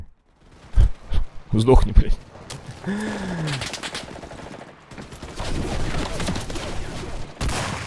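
Machine gun fire in the WW2 shooter Enlisted, sharp gunshot bursts early on, then a steadier rattle of distant fire and battle noise, with someone speaking over it.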